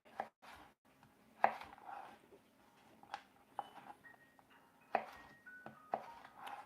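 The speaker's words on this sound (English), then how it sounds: "we can go and chop them into strippies" Knife chopping vegetables into strips for a cottage pie on a kitchen board, giving quiet, irregular taps spaced about half a second to a second apart, faint and close with no talk.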